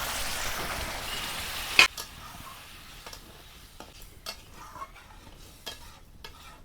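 Boiled potatoes and peas drop into ghugni masala frying in a pan, giving one sharp splash followed by a steady sizzle with soft stirring scrapes and light ticks, close and alone.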